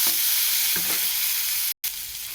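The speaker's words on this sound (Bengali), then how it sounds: "এরপর আমি টমেটোটা দিয়ে দিলাম, কষাতে থাকবো" Tomato going into a pan and being sautéed for a pumpkin fritter curry, a steady close sizzle of frying throughout with a couple of soft stirring knocks and a brief dropout near the end.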